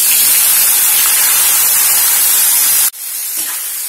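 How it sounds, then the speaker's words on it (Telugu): Tomatoes fry in hot oil in a kadai with a loud, close, steady hiss of sizzling that suddenly drops to a softer, quieter sizzle near the end. "ఈ టొమాటోల్ని కొద్దిగా ఇలాగా ఫ్రై చేసిన తర్వాత చింతపండు కొద్దిగా మెత్తబడేదాకా ఉంచాలి."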